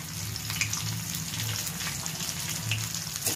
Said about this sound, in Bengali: বেশ খানিকটা জল দিয়ে দেবো, ডালটা ভালো করে ধুয়ে নিই।